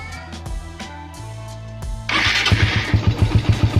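A motorcycle engine with a 28mm Pitsbike carburetor cranks over and catches, then settles into a sputtering, rhythmic idle, close and fairly loud, with chugging pulses that grow steadier after the start.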